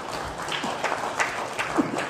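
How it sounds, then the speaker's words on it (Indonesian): Applause from an audience at a swearing-in ceremony for newly installed association board officers, brief scattered clapping that rises and falls over a couple of seconds, moderately close, with faint voices mixed in. "Kita beri aplaus kemenangan"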